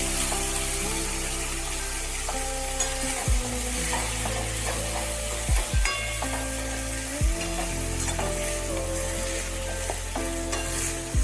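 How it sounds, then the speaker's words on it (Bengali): Washed potatoes frying in hot oil spiced with five-spice and asafoetida, hissing continuously while a spatula stirs and scrapes through them in several strokes; no voices. "মশলা তেলের মধ্যে নাড়াচাড়ার পর ধুয়ে রাখা আলুগুলো দিয়ে দিতে হবে।"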